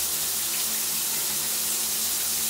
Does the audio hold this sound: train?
no